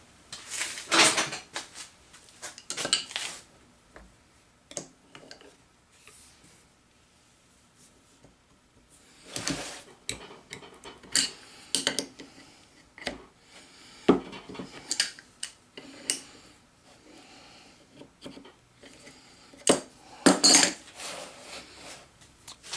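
A rotating gear-cutting tool is handled and turned with a wrench, giving scattered metallic clanks, clicks and scrapes in irregular bursts, close and moderately loud, separated by quiet gaps.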